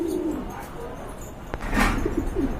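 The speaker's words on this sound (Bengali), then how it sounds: "এটা মাদি কবুতর" Pigeons offered for sale, including a female, give soft low coos close by, with a brief sharp knock midway and more cooing after it.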